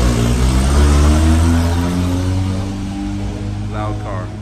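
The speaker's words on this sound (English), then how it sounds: "loud car" A loud car passes on a street in Puerto Vallarta, its low engine drone and revving close and rising, then fading as someone talks over it.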